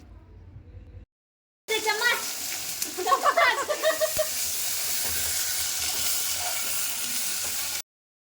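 Biryani with peas cooks in a pot, giving a loud, continuous sizzle and hiss after a short gap, with a brief scrape of stirring partway through.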